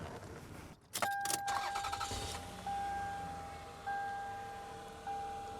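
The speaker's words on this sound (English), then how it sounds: "All right, so let's turn the car on." Keys jangle briefly in a car's ignition, then a dashboard chime sounds repeatedly at a steady interval as the car is switched on, close and fairly quiet.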